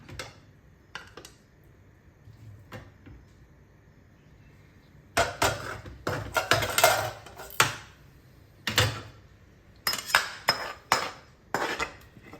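Stuffed ridge gourd gravy is spooned from the pan into a bowl, giving irregular bursts of metal utensils clinking and scraping against cookware, close and moderately loud, with a quiet stretch before the clatter picks up.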